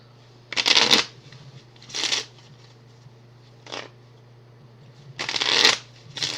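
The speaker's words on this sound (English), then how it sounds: "Always got to shuffle the deck whenever you go to it." A deck of cards for the Onirim board game is shuffled in several quick riffling bursts, close and crisp, separated by short pauses over a low steady hum.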